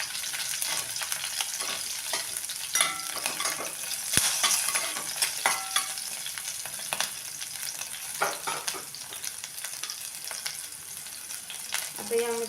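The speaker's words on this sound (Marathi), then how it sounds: "आता आपण हे मिक्स करून घेऊया" Curry leaves and chopped green chillies sizzle in hot oil in a pan while being stirred. A steady crackling fry runs throughout, and irregular scraping strokes of the spoon cut across it.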